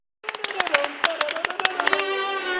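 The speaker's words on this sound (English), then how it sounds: "Let's clap it." A group of teenage orchestra players claps in rhythm after a sudden start, sharp hand claps landing in an uneven pattern over a sustained musical tone, fairly close.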